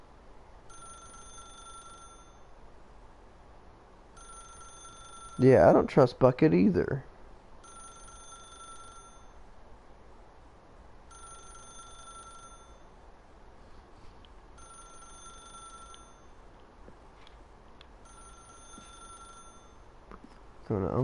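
Telephone ringing in The Stanley Parable video game, an old-style bell ring in short evenly spaced bursts repeating about six times, with someone talking briefly over one of them.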